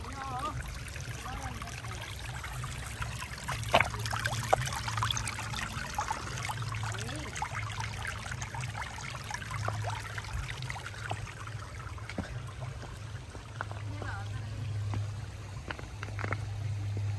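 Water trickles and burbles softly and continuously in a park, with occasional small splashes and a low steady hum underneath.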